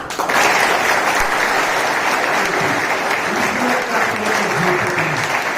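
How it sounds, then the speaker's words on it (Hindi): Loud, dense applause from an audience at a success-story sharing event, cheering a foundation, with steady clapping throughout and faint voices mixed in beneath. "एक बार जोरदार ताली दीप फाउंडेशन के लिए।"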